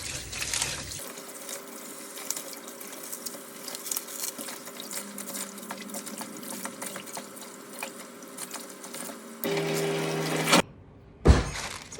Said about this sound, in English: You don't need the stalks, so break the stalks off and wash the spinach.